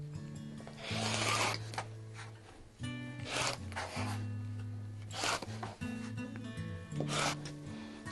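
Fabric strips for a quilt are cut across the width of the fabric, producing repeated close scraping and rubbing strokes over a steady low hum.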